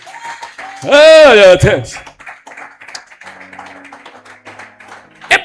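Church congregation clapping during an evening sermon, scattered light hand claps and taps after a loud exclamation, fairly soft and spread across the room.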